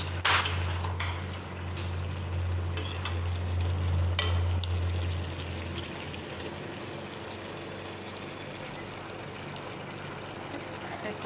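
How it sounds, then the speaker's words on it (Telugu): Bitter gourd curry cooks in a pan while being stirred back and forth, giving a soft, steady sizzle with light scraping that thins out after the first few seconds. "ఇట్లా 5 మినిట్స్ అట్లా కొంచెం దగ్గరికి అయ్యే వరకు ఉంచుకొని అటు ఇటు కలుపుతూ ఉండాలి"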